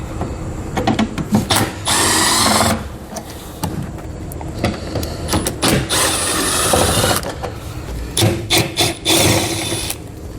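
Working on a 2020 Chevrolet Silverado, a power tool with a 10mm socket spins out screws and plastic nuts in several loud, close whirring bursts, separated by clicks, rattles and handling of parts.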